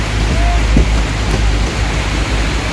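Rain pours down on the Sant Dnyaneshwar Maharaj palkhi procession of the Ashadhi Wari in Phaltan, a loud, unbroken wash of hiss with a low rumble underneath.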